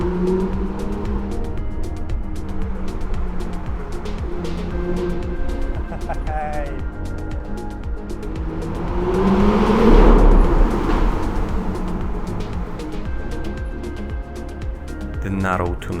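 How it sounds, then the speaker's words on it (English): Cars drive through a narrow Alpine road tunnel, where one passes loudly and swells to a peak mid-clip over a steady, droning background. "The narrow tunnels really amplified the sound of cars."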